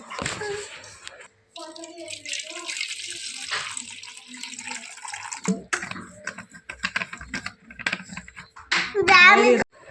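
Water pours and sloshes as roasted mango pulp is squeezed and mashed by hand in a bowl, close and wet, with someone talking over much of it.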